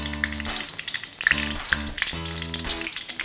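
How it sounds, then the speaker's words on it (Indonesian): Shallots sautéing in cooking oil for a papaya-leaf stir-fry, a steady close sizzle with bursts of crackle and stirring scrapes; no voices. "menumis bawang merah"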